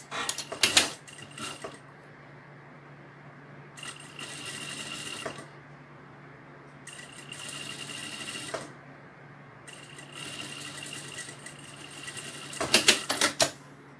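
Sewing machine stitching fabric onto a zipper for a vaccination booklet cover, running in several whirring bursts of a few seconds each with pauses between, plus sharper mechanical clicks at the start and end.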